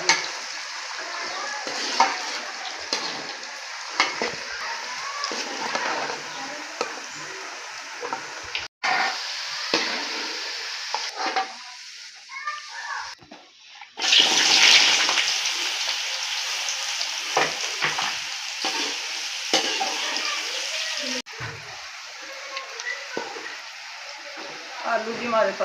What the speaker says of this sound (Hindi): अरबी को फ्राई करेंगे पहले, फिर आलू फ्राई करेंगे